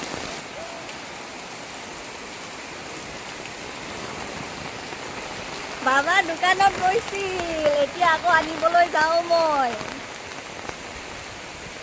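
Steady heavy rain falls outdoors during the rainy season, a constant loud hiss throughout while someone talks over it in the second half.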